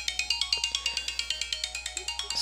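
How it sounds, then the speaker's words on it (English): A mobile phone ringtone goes off during a classroom math lecture, a bright electronic pattern of about twenty evenly spaced pulses repeating steadily and fairly loud, with only faint room noise underneath. "my phone's going off obviously"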